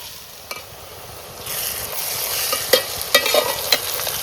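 Thinly sliced onion hits a hot pan with a sudden loud sizzle that stays steady, punctuated by several clanking stirs of a utensil, close up with no speech.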